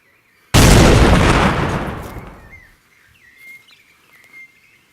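A single loud explosion booms suddenly and decays over about two seconds, followed by quiet with faint bird chirps.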